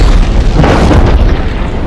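Deep volcanic explosions from the film Jurassic World: Fallen Kingdom rumble loudly and continuously, a dense low boom that fills the whole moment without any talk.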